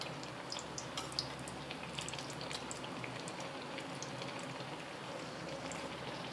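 Bajji fritters deep-frying in hot oil over a medium flame, a steady close crackle and sizzle of popping bubbles throughout, with no voices.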